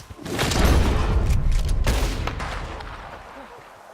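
Heavy gunfire in Red Dead Redemption 2's western setting: a thick cluster of loud, booming shots with echoing tails that fade over a few seconds, and a voice faintly present underneath.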